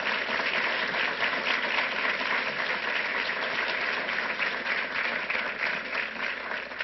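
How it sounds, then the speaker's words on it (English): Sustained, loud audience applause fills a gun-safety event hall, steady dense clapping from a large crowd with no break throughout. "let's give them a really special round of applause"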